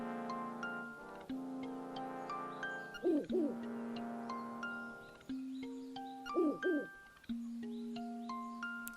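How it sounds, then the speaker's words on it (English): A hooting owl call in the video game Link's Awakening, rising in repeated bursts over looping game music with chiming melody notes; no talking. "It's an owl."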